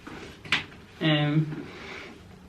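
A cardboard door on a 2019 NYX makeup advent calendar is pushed open with one brief, close papery snap, followed by a short voiced sound from a person.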